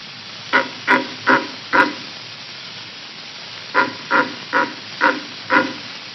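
A red deer stag driving a hind or chasing off a rival on an old 1922 gramophone recording, giving two runs of short, hoarse, rhythmic roaring grunts, four then five, loud and close over steady surface hiss.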